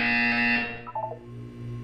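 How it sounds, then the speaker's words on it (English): An electronic buzzer in the video game Portal 2, a steady harmonic tone sounding loud and alone for about half a second before it cuts off, followed by faint synthetic tones and a low hum. "When you hear the buzzer, look up at the ceiling."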